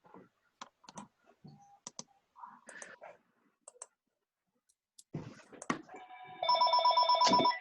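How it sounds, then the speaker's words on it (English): A mobile phone rings loudly during a council meeting, its steady electronic ringtone starting near the end and continuing alone after scattered clicks and small handling noises. "That was my phone."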